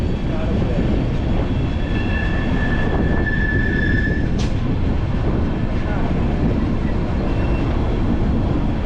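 A train on the Siliguri to Hasimara line, running past tea gardens, hills and rivers, gives a loud, steady rumble of wheels close by, with thin squealing tones and a sharp brief screech partway through.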